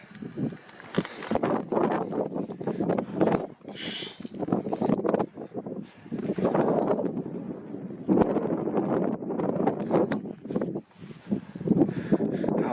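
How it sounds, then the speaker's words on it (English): Heavy wind buffets the microphone in continuous loud rumbling gusts at the Three Rivers Petroglyphs site, with brief pauses, and a faint voice now and then underneath. "It's just so windy."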